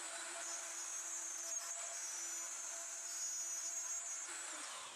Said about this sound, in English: The inlay has been routed.